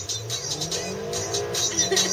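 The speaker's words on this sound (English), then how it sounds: "I'm going to show you the acceleration on this." A supercharged 2008 Honda Accord accelerates hard, its engine note climbing steadily in pitch with a strained, whining edge, heard from inside the car.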